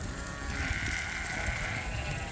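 A single sheep bleats in a long, wavering call inside a barn during indoor breeding, fairly near and set against a steady murmur of background noise.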